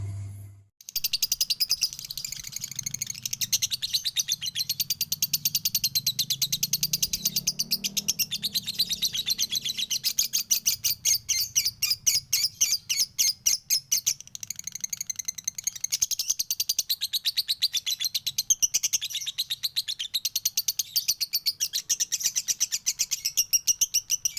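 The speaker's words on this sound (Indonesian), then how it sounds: "Burungnya di rumah Ibon itu waktu itu kayak gini teman-teman." A lovebird chirps and sings close by without pause, rapid high trilling notes and rattling chatter running on in a dense, continuous stream.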